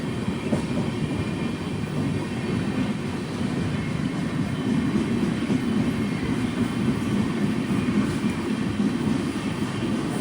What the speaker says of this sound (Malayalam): ആറ് 39 ട്രെയിൻ ഇപ്പോൾ വടകര റെയിൽവേ സ്റ്റേഷനിലേക്ക് ഇതാ എത്തുകയാണ്